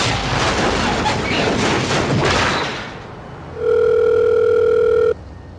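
A phone call tone from the DedSec phone in the video game Watch Dogs 2: a steady electronic tone sounds loud and clear for about a second and a half after a burst of noisy game sound.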